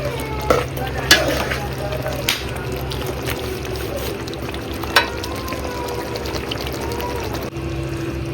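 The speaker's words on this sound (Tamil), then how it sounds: "இந்த எல்லாம் அரைச்சி வச்ச பேஸ்ட்டோட சிக்கன் கொஞ்சம் வெந்துட்டுருக்கு" Chicken simmering with a ground spice paste in a pan for Madurai wedding-style pepper chicken, giving a steady low sizzle with a few sharp clinks of a spoon against the pan.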